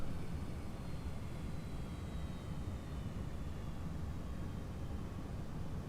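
Boeing 757 engines on approach in X-Plane 11 give a steady, broad roar with a faint high whine, continuous and even throughout with no talk.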